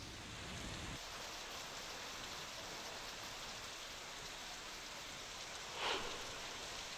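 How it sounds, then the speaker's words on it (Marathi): Heavy monsoon rain falls in Akole taluka, Ahilyanagar district, as a dense, unbroken hiss with a short louder burst near the end and no voices. "मुसळधार पाऊस सुरू असून"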